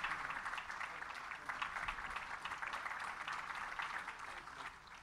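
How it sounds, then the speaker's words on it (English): An audience at a Guam Chamber gubernatorial forum applauds the gubernatorial candidates with a steady wash of clapping from many hands that holds through to the end and fades slightly at the close. "How about a round of applause for our gubernatorial candidates?"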